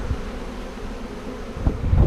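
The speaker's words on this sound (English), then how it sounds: "Although we just blasted the bees onto the ground, they know exactly where they have to go." Honey bees buzzing near the ground after being blown off hive frames during a honey harvest, a steady low drone with wind-like rumble and a few louder thumps near the end, no voices.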